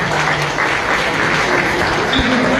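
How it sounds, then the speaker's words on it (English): Audience applause at a Houston millennials mayoral candidate forum, a steady dense wash of clapping that fills the room at full level for the whole stretch, with no voices over it. "Give yourselves a round of applause"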